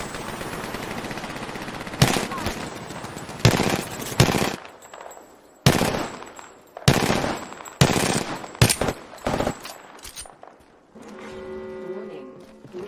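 Gunfire in the video game Apex Legends, several loud bursts of rapid automatic shots separated by short pauses, with brief speech in between.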